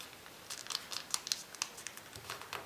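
Origami paper being creased and folded for a cat figure, giving a series of soft, close crinkles and crisp rustles in irregular bursts, fairly quiet and with no voices.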